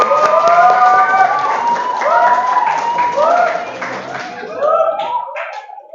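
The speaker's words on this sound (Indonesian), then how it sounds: "Beri tepuk tangan." A classroom group of students claps for a winning discussion team, quick hand claps rising under lively, overlapping voices and cheers, then tapering off as the noise drops away.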